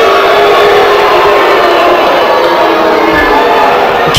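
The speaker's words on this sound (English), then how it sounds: "The crowd knows who to cheer for" A crowd at a live wrestling event roars and cheers without a break, loud and continuous, with a brief low thump near the end.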